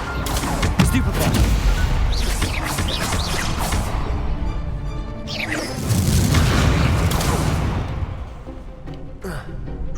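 Repeated Stupefy spell casts in the Hogwarts Legacy video game, loud booming bursts that crackle and pop, coming in two dense waves over a continuous roar of other spell effects.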